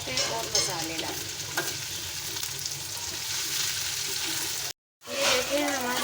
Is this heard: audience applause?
no